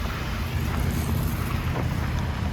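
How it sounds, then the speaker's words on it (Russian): Steady wind roaring and buffeting a microphone outdoors in an extremely cold city, a constant low rumble with gusty hiss, no voices. "Еще и ветер сегодня."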